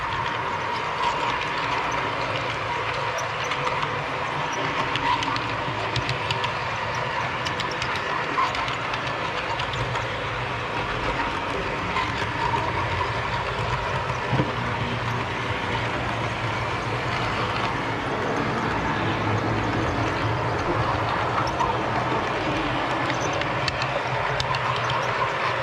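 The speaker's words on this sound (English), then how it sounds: "I got to keep an eye on the trains now" Model trains running around a home layout, including a CSX locomotive, give a steady continuous rolling rumble with faint clicking of wheels over rail joints, close by and with no voices.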